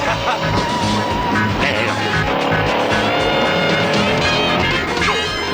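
A car engine roars at high revs while tires squeal and skid, loud and continuous, with background music underneath.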